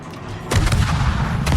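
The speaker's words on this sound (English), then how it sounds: "I don't see why we can't just finish him off with the 2 rear turrets." Rear turrets of a warship firing in a naval combat game: a sudden heavy boom followed by a low rumbling roll, with another muffled thump near the end, loud and close, no talk.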